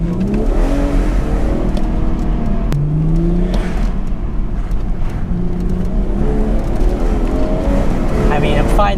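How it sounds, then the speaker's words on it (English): A modified BMW M240i engine revs and pulls hard from inside the cabin, a loud, steady drone that rises and falls through the gears. Someone talks over it throughout. "that's a proper sound coming out."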